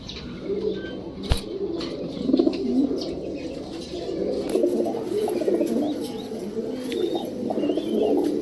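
Pakistani-bloodline pigeons, a female and a male, coo softly and continuously up close, with faint pecking, a few chirps and a sharp tap, no talking.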